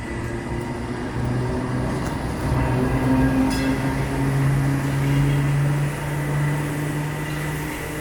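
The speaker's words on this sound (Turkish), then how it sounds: "Evet arkadaşlar şu an Taksim'in o özel trenini görüyoruz." A historic tram rumbles past in Taksim, Istanbul, with a steady low drone and faint tonal whine, sustained and fairly close throughout, no voices.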